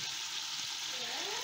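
Small onions fry and caramelise in a pan, a soft, even sizzle heard fairly quietly, with a faint voice-like tone rising briefly near the end.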